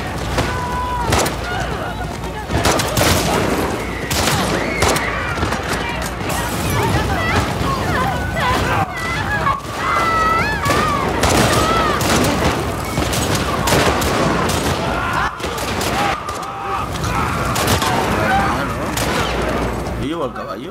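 Repeated bursts of gunfire and heavy booms crash throughout amid chaotic action in the video game The Last of Us Part II, with voices shouting intermittently over the loud, dense battle noise.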